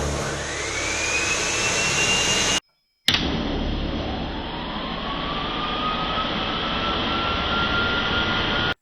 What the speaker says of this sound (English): Miter saw plus two 5000 BTU window ACs.